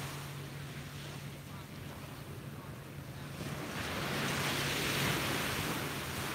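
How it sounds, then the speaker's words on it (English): Rough morning waves roll onto a beach as a steady, broad wash of surf that swells louder toward the end, mixed with wind buffeting the microphone. "I love the rough waves this morning."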